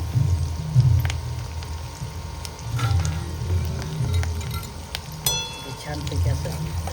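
Chopped garlic and green chilli pieces sizzle in hot tempering oil, a steady crackling fry with occasional stirring clicks, while a voice talks underneath.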